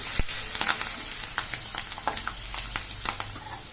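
Chili powder being stirred into bottle gourd curry in a hot pan: a steady sizzle of frying with sharp clicks and scrapes of a spoon against the pan, close and clear, without voices.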